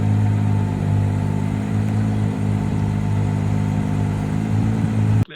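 A Ferrari engine revving hard, a dense continuous growl with strong low harmonics held close and loud, cutting off abruptly at the end.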